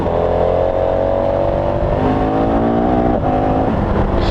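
Close, loud engine of a 2019 KTM 1290 Super Adventure motorcycle accelerating hard along a road, pitch climbing steadily through the gears with heavy wind roar.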